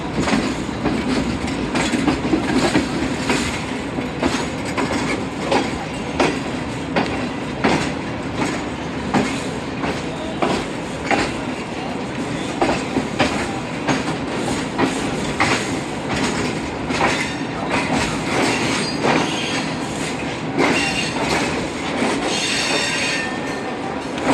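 The Shalimar Express passenger train runs slowly around a curve. Its wheels squeal and clatter in a continuous rumble, with repeated rhythmic clicks from the rail joints, close and loud throughout with no voices.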